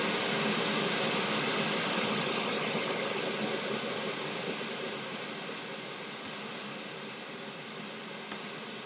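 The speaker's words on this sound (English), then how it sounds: "So let's do some more pink noise to reset our time." Broadband pink noise test signal plays through a loudspeaker for acoustic measurement, a steady hiss filling the whole range, loud and constant with a slight fade toward the end and a couple of faint ticks.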